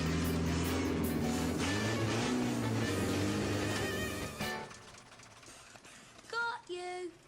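A car revs its engine in a steady, loud drone that holds for several seconds and then cuts off, followed by a short voice.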